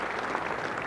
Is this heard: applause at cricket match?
yes